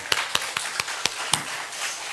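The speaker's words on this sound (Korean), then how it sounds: "우리 하나님께 영광의 박수를 한번 드리겠습니다." A church congregation claps together during a Sunday service, giving about six sharp, evenly spaced claps in quick rhythm before the sound trails off into room ambience.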